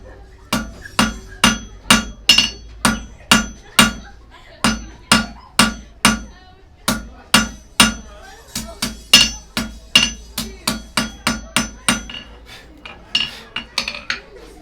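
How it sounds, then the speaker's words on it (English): A blacksmith hammers hot metal on an anvil at a heritage museum forge with loud, ringing, close strikes in a steady rhythm, about two blows a second, and the pace quickens near the end. "Hammer, anvil."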